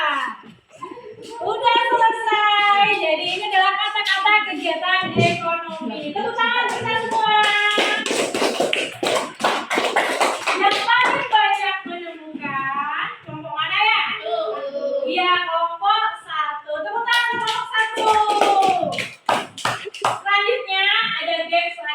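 A class of children claps in rhythmic patterns during a lesson game, with sharp bursts of clapping between stretches of chanting voices and a teacher talking.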